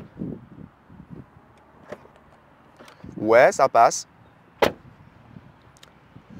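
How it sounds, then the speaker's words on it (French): Doors of a Tesla Model Y Performance built in Berlin being shut, with a short mechanical whir and then two solid thuds in quick succession, a sharper click a second later, and someone speaking quietly before and after. "On va voir le bruit que la voiture fait à la fermeture des portes."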